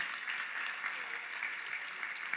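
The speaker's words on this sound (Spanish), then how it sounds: "Dele más fuerte ese aplauso al Señor." Church congregation clapping during a Spanish-language service, a steady rhythmic patter of many hands heard at a distance and fairly faint.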